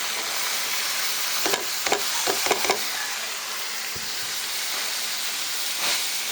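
Shrimp frying in a pan with turmeric, onion, garlic and green chilies gives a steady close sizzling hiss, broken by a few sharp scraping stirs in the middle and one near the end.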